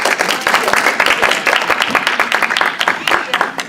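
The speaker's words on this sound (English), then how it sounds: "Let's give her a round of applause." A room full of people claps steadily in a dense burst of applause, with voices mixed into the noise.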